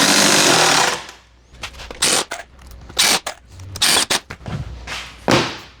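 A power drill drives 1 5/8 inch screws into a narrow drawer cabinet during assembly: one sustained close whir, then a string of short, loud bursts with brief pauses between them.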